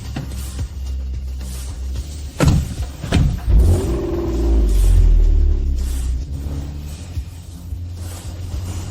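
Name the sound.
cars of a wedding motorcade starting and driving off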